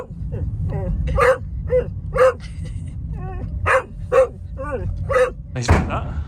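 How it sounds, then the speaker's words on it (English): A dog barks repeatedly in sharp, loud bursts close to the microphone, about eight barks with short gaps, over a steady low rumble outdoors at a flooded cottage on the Isle of Skye. "Jack, stop barking in my ear"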